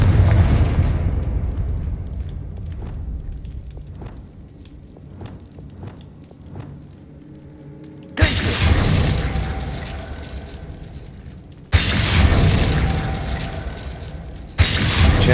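Fiery Confringo spell blasts in Hogwarts Legacy: soft thuds and pops give way to two loud, sustained roaring bursts of explosive fire, each cutting off abruptly, with no talking over them.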